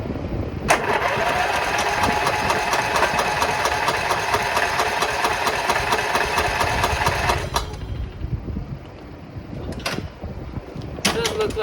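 A Cub Cadet mower engine runs with a steady, rough mechanical chatter for about seven seconds, then cuts off, leaving a few faint knocks and a short burst near the end.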